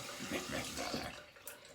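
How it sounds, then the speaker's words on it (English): Tap water runs and splashes into a sink during soap testing, a steady close rushing that swells and dips, with a brief brighter splash near the end and no talk. "Here's running water again."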